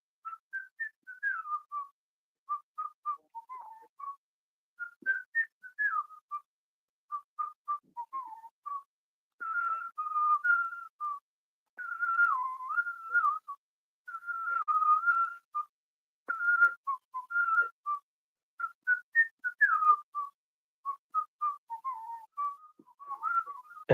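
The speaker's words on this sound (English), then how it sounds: "I started with whistling. So I go," A single person whistles a lilting melody alone, in short repeated phrases separated by brief pauses, close and clear.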